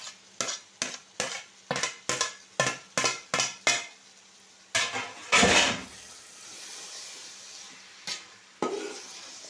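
A spoon stirs onion and tomato in a pan for a mutton biryani base, about ten quick rhythmic scraping strokes close up, then a louder clatter and a few sparse stirs over a faint sizzle.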